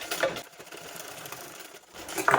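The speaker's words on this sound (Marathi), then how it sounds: "इथपर्यंत थोडंसं स्टिच करते" A sewing machine runs steadily through fabric as a strip is stitched for a homemade holder for a set of dinner plates, a close, continuous whir that grows louder for a moment near the end.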